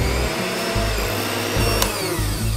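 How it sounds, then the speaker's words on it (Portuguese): An electric stand mixer whips cream in a home kitchen, giving a loud, continuous motor whir with a pulsing, churning rhythm through the whole short stretch and no talking. "eu vou colocar aqui a minha nata na minha batedeira"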